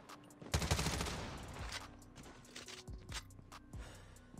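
Rapid gunfire from a weapon in the Call of Duty Mobile video game, a dense burst of shots up front followed by scattered individual shots and clicks, fairly faint overall.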